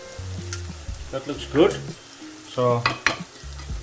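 Chicken semi-gravy finished with ghee sizzles softly in a pan, with intermittent clinks and scrapes. Someone talks over it throughout.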